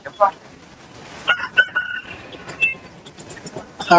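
A rooster crows a few times amid a busy Sunday poultry market in Tamil Nadu, with scattered clucks of country chickens and distant murmuring voices.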